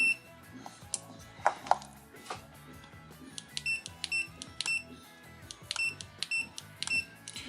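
An ANENG 620A multimeter in continuity mode gives a run of short electronic beeps in irregular bursts, mixed with light clicks from probes touching contacts, close and clear.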